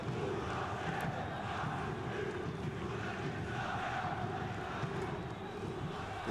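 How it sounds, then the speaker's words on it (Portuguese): Fluminense supporters chant together in the Maracanã stadium during a Brazilian league match, a dense, distant roar of crowd voices that stays steady and fairly faint. "a torcida do Fluminense aqui no Maracanã vai gritando um corinho mais ou menos o seguinte"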